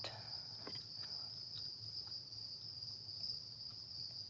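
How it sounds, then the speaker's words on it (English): Steady high-pitched cricket chirping fills the air, a continuous insect trill with faint scattered ticks beneath, unbroken and even throughout. "you got to listen to crickets chirping"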